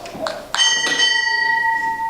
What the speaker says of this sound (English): 2 bells